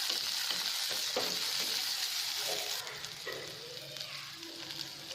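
Chopped shallots and curry leaves sauté in oil for a chicken fry. A close, bright sizzle carries some stirring scrapes and eases slightly partway through, with no voices.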